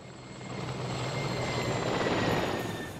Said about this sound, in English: We're just gonna dodge this helicopter all day.